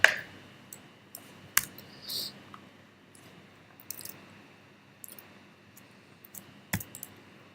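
Sparse clicks of keys on a computer keyboard, irregular and fairly quiet, tapped one or two at a time with brief pauses between.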